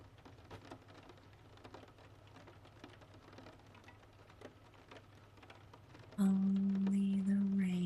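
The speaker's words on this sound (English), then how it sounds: "Only the rain." Steady soft rain patters near and constant, joined near the end by a loud sustained low tone with musical overtones.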